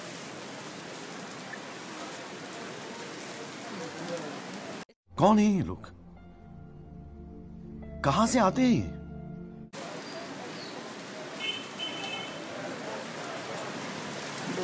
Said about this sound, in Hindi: दोस्तों बारिश वक्त वक्त से बहुत ही कमाल की तेज तेज होती जा रही है